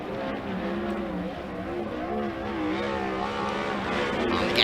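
A 410 sprint car accelerates hard off a corner at a dirt track during qualifying, its engine a loud, steady harmonic roar with shifting pitch that swells slightly toward the end.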